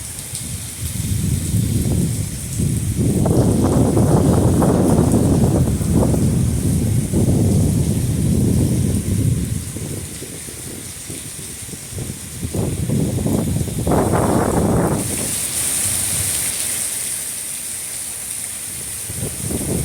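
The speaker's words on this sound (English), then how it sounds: "Wind's blowing pretty good right now" Storm rain lashing down with strong gusting wind, a loud continuous rushing roar that rises and falls in surges, buffeting close to the microphone, then easing to a steadier hiss.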